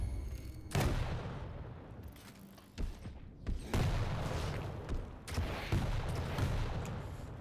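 Railgun shots and combat in Quake Champions during a 125FPS Sunday Cup semifinal duel: several sharp, loud blasts at irregular intervals, each followed by a crackling, echoing decay under steady game noise.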